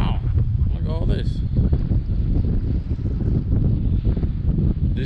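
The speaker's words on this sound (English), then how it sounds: "Well, it's really windy, so you might just hear the sound of the wind." Strong wind buffets the microphone at a rocky island shore at low tide, a constant low roaring rumble throughout with brief faint voices near the start.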